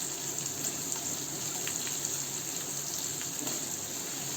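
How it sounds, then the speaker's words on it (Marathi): Onion sautéing in a pan over a high flame gives a steady, soft sizzle and hiss, quiet and continuous throughout with no speech. "कांदा मी फास्ट गॅसवर परतून घेते"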